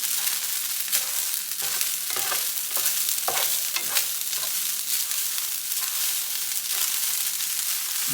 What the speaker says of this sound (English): Move it around just as if it was in a wok, like we're stir frying the rice.